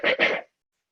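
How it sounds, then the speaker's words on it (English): A single short cough, two quick bursts close to the mic, followed by silence. "But if I do like a cough"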